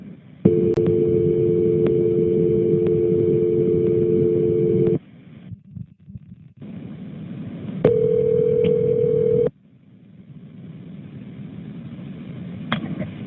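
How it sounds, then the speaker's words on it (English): Phone line tones during a call transfer to a cell phone from a sheriff's office: a steady two-tone dial or ringback tone for about five seconds, a short gap, then a higher single tone, ending in line hiss. "Let me transfer you over to her cell phone, okay?"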